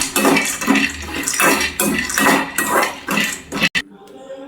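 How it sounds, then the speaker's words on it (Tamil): Peeled pistachios are stirred as they dry-roast in a pan over medium heat, giving repeated rhythmic scraping and rattling strokes, fairly close, before a brief clunk and a quieter tail. "மிதமான சூட்டில் வந்து காந்த விடாமல் அப்படியே கிண்டிகிட்டே இருக்கலாம்."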